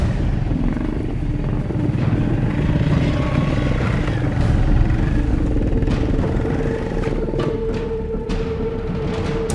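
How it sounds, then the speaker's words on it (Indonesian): A motorcycle engine labors steadily over a slippery, soft red-earth road, its mid-pitched drone mixed with clatter and rattles, with voices faintly in the background. "Saya pun ingin mencoba merasakan bagaimana susahnya membawa motor dengan melewati jalan"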